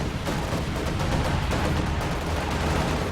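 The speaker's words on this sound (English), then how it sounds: "Oh, anti-tank strafe." Anti-tank strafe attack in Company of Heroes 2, a dense, steady barrage of rapid gunfire and explosive rumble filling the whole stretch at constant loudness, with no pauses.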